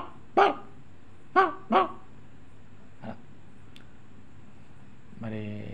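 A man doing mimicry imitates a barking dog with his voice: three sharp, loud barks close together, then a softer yelp and a drawn-out whine at the end, with quiet pauses between.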